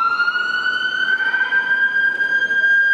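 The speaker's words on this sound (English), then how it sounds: "Oh, we got an ambulance here." An ambulance siren wails on Yonge Street in downtown Toronto during an evening walk, a loud, steady, high tone rising slightly in pitch and holding close for the whole stretch over a faint street hum.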